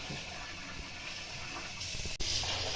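Tap water runs in a steady, close hiss while rice is rinsed for a Ukrainian-style pilaf, with a brief clatter near the end.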